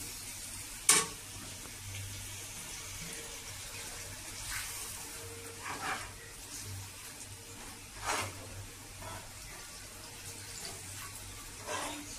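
Poppy seed curry with green chillies and added water simmering in a pan, a soft low bubbling and hiss with occasional louder utensil clatters and scrapes, fairly quiet and without voices.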